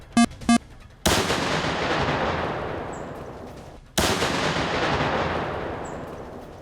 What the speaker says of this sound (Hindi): एक दूसरा केबल बिछाया जाता है और फिर बड़ी सावधानी से इसे ब्लास्ट कर दिया जाता है।